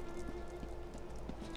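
Rain falls in a fantasy role-playing video game, a steady soft patter with scattered drops landing nearby, heard alone over a low ambient hum.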